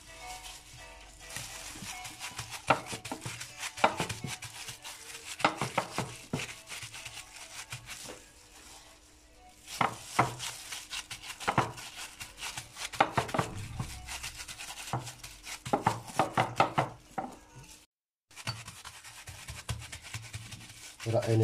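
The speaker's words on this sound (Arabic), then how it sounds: "بدنا نبلش نطبق الكبة. شوية زيت بكعب الصينية" Kibbeh dough pressed and spread by hand into an oiled baking tray, giving soft rubbing, patting and scraping noises in irregular bursts, close up, with a brief silent gap near the end.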